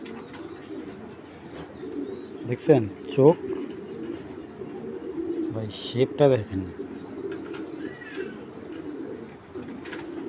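Pigeons of fancy breeds coo in two or three short close rolling phrases, with someone talking over and between them.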